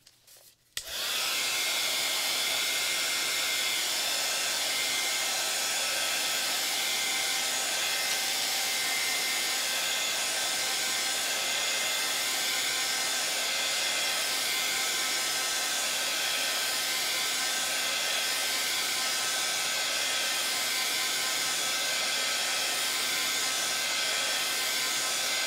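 A heat tool blows steadily while drying a mixed-media art journal page, a loud continuous whirring hum that starts abruptly and runs unbroken with no talk over it.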